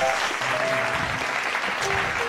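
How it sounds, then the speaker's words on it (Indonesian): A studio audience claps for Bandung city firefighters, a short burst of steady, full applause running throughout with faint tonal background sound underneath. "Tepuk tangan dulu dong."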